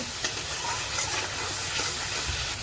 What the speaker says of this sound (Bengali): মশলা দিয়ে যতক্ষণ না তেল ছাড়বে ততক্ষণ কষিয়ে নেব।